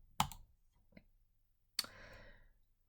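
Two crisp, close computer mouse clicks in a quiet room, about a second and a half apart, with a faint tiny tick between them and a soft rustle trailing the second click.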